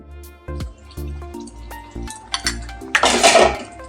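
A spoon stirs potol chingri, a Bengali pointed gourd and prawn curry, in a pan after butter goes in. Repeated clinks and knocks against the pan build into a wetter, louder scraping toward the end.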